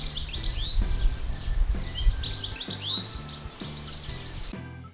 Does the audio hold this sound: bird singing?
yes